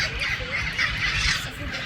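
A flock of parrots feeding on acorns calls out close by, a busy layer of squawks and chatter over low background noise, with a voice briefly audible.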